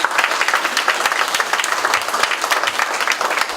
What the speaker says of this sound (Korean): 우리 중구 청장님 큰 박수 한번 좀 부탁드리겠습니다.